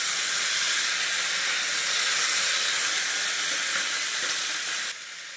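Tomato and spiny gourd hitting a hot pan, giving a loud, steady, steamy sizzle and hiss that holds throughout and drops slightly in level near the end.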